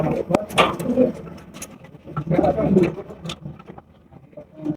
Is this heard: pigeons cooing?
yes